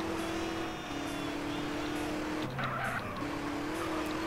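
A car engine in GTA San Andreas Multiplayer runs with a steady hum, its pitch shifting slightly midway before settling back, with no voices.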